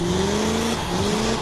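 A car engine fitted with an aftermarket air intake roars close by in a short, loud burst, with rising tones suggesting revving or acceleration.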